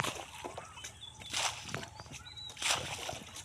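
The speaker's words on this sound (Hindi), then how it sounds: "अभी नाव चला रहे हैं" Wooden fishing boat rowed on the Gomti river, with soft oar splashes and water sloshing in repeated strokes about every second and a half, close by, over faint background hiss and occasional bird chirps.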